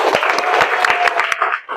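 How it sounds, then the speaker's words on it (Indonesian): A classroom group applauds together in a teacher-training session, crisp close hand claps in a fast, uneven patter with sharp individual slaps standing out, lasting just under two seconds before tapering off abruptly. "tepuk tangan untuk kita semuanya"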